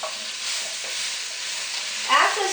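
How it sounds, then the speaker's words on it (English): Vegetables for a Vietnamese shrimp and tofu curry cook in a pan with a steady close sizzle and hiss, a brief stirring scrape near the end, no voices. "The vegetable you cook first, so you just cook, I think, 15 minutes. Cook until your vegetables soft."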